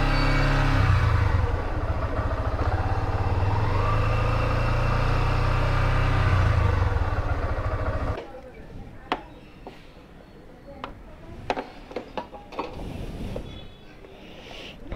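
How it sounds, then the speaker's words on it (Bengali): A motorcycle with a faulty throttle that climbs on its own revs with a rising and falling drone close up, then cuts off suddenly. Scattered clicks and handling noises follow. "ডান দিকে হ্যান্ডেলটা ঘোরালে থ্রটল অটো বেড়ে যাচ্ছে।"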